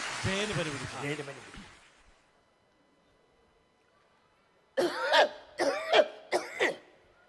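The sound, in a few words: imitated coughing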